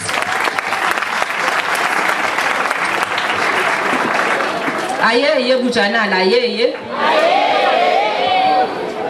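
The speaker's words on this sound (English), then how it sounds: "give yourself a round of applause" A high school crowd claps steadily in loud applause at a school assembly in South Africa, with cheering and voices rising over it partway through.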